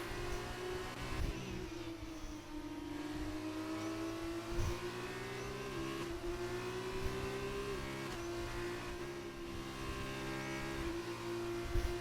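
A Formula 2 race car engine in a racing video game drones steadily and loudly, its pitch climbing and settling through gear changes as the car accelerates out of a double left-hand corner with a touch of wheelspin.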